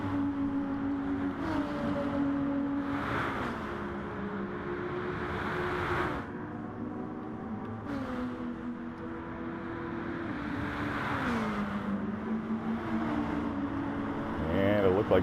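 Race cars in a Gran Turismo GT Cup race at Willow Springs International Raceway drone down the long straightaway, engine tones rising and dipping in pitch as they pass, steady and moderately loud beneath a commentator's voice.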